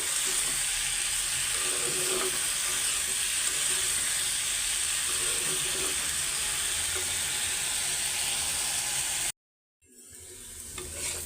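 Vegetable bhaji with a little turmeric frying in a pan, a steady, close hiss of sizzling oil with stirring, which cuts out abruptly near the end before a faint sizzle returns.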